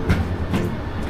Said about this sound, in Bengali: ট্রেন কিন্তু এখন ছেড়ে দিয়েছে।